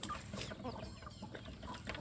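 Free-range backyard chickens cluck and murmur softly in a pen, the scattered short calls faint and distant over a low outdoor background.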